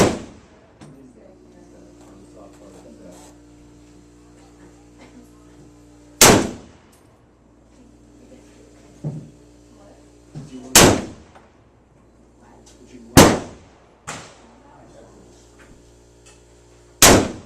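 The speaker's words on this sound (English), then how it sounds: "Take your time with every shot, hit your targets where you want to." M1 Garand rifle fired at an outdoor shooting range, four sharp loud cracks spaced several seconds apart with ringing decay, a fainter pop between them and quiet background murmur.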